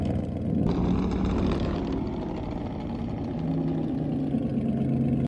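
Four-wheeler with Reaper wheels idling in Farming Simulator 22, a steady droning engine hum with a slight rev change, loud and continuous, no talking.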